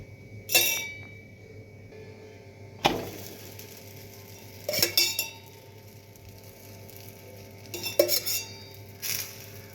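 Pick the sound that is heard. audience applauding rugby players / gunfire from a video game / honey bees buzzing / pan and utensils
pan and utensils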